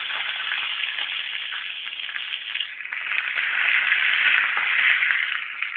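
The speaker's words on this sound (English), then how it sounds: "The mustard is starting to splatter." Dense, steady sizzling and crackling of mustard seeds spattering in hot oil, loud and close, swelling slightly toward the end.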